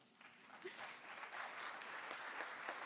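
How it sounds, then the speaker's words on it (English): Audience applause at a NATO summit, a steady wash of many hands clapping that builds slightly and holds, fairly distant and faint. "But first, applause for me and for all these announcements."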